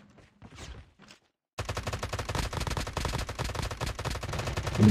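Rapid automatic gunfire in the mobile battle royale game Call of Duty Mobile bursts in after faint muffled sounds and a moment of silence, then rattles on loud and unbroken to the end.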